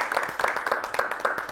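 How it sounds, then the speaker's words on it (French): Scattered audience applause after a speaker's introduction at a French-language literature and education event, a brief burst of mixed claps with faint voices underneath. "Voilà, monsieur, on peut l'applaudir, bravo."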